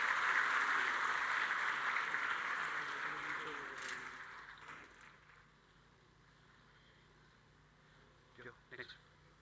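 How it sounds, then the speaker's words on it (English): Applause at an inauguration award ceremony, a faint, distant wash of clapping that gradually dies away, followed by a few scattered sounds near the end. "A big round of applause, please."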